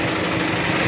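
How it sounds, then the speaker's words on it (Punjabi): A Mahindra Arjun 605Di diesel tractor engine runs with a loud, close, even chugging drone that stays steady with no pauses or voices. "ਤਾਂ ਟਰੈਕਟਰ ਆਪਾਂ ਰੱਖਦੇ ਹਾਂ ਸਟਾਰਟ"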